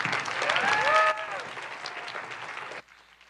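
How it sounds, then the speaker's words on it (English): An audience claps for the band Tangled Roots at a live event, a steady crowd of applause under and after some brief singing, then cutting off abruptly. "Please, another round of applause for Tangled Roots."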